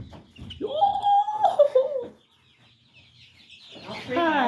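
A family chicken clucks and squawks up close while being held by the chest, a burst of loud cackling followed by a pause and another rising squawk at the end.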